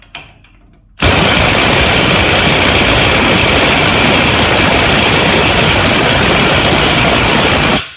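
A Makita DTW285 or Hitachi WR18DBDL2 cordless impact wrench tightening a bolt bursts in after a brief quiet moment. It gives a loud, sustained hammering rattle for about seven seconds before stopping.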